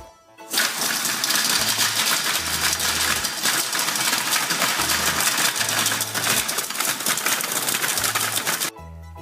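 A Moulinex Companion food processor runs at speed 12, a loud, steady, buzzing mechanical whir with grinding texture that starts abruptly and holds for several seconds before cutting off, with no voices.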